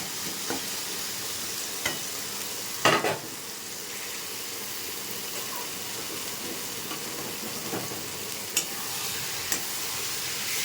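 Papaya and potato pieces frying in spiced masala for a rohu fish curry, with a continuous hissing sizzle and occasional scrapes and clatters of stirring, no voices.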